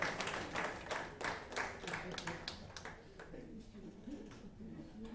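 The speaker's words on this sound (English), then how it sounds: "Clap for them." An audience at an agricultural research presentation claps for the presenters, a burst of fairly faint applause with distinct hand claps that thins out toward the end.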